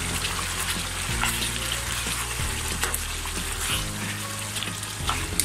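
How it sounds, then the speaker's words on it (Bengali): Coconut paste fries and bubbles in a pot while being stirred for chicken soup, giving a steady, close sizzle with a scraping stir about every second and a low burner rumble underneath. "নারকেল বাটাটা আমি ভালোভাবে মিক্স করে নিচ্ছি। আমি আরো কিছুক্ষণ কষিয়ে নেবো"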